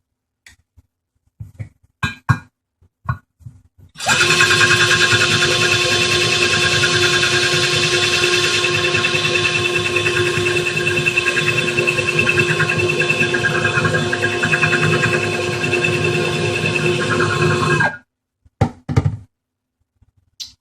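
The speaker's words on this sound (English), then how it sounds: "I'm going to drill a little bit more" A power drill bores steadily into a glass wine bottle for a lamp, a sustained loud whine with tonal harmonics running about fourteen seconds, framed by a few brief knocks and handling sounds before and after.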